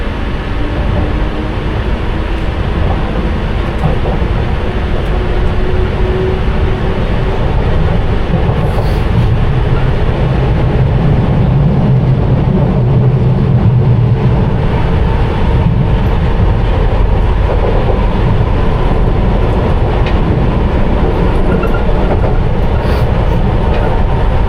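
A London Underground Piccadilly Line train runs westbound on the fast track toward Hammersmith and Acton Town, heard from the rear cab: a loud, continuous rumble with rhythmic wheel clatter and rising and falling motor whine.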